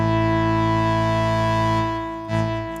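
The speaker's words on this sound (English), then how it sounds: "this has a distortion on it." A sustained distorted tone from a Modal SKULPT synthesizer holds steady with buzzing harmonics, then dips and briefly swells near the end, with no talking.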